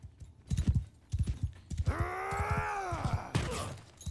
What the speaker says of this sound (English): Now running them over with a horse